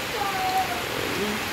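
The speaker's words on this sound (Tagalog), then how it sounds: "ulan naman." Steady rain falling over an orchard of fruit trees, a soft, even hiss of drops that holds at a constant level throughout, with no voices.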